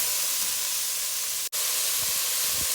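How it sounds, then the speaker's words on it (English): A whole red onion sizzles in a hot pan, a steady broad hiss that runs continuously with one brief dropout in the middle. "I'm gonna add my onion now, and I'm adding 1 whole red onion."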